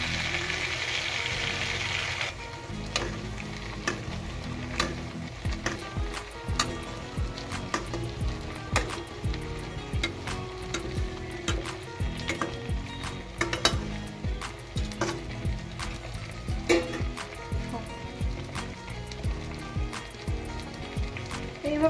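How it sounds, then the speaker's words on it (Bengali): Chitol fish frying in a pan, a steady crackling sizzle with repeated clinks and scrapes of a utensil stirring and turning the pieces, close and moderately loud, no talking. "এইভাবে করে 2 পিঠ ভালো করে ভেজে নিতে হবে।"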